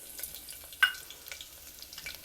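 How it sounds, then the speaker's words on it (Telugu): Tempering of mustard seeds, urad dal, chana dal and sliced green chili frying in hot oil in a brass pot, a faint steady sizzle with scattered small pops and one brighter clink. "వేసి కొంచెం ఎర్రగా వేయించుకోవాలి."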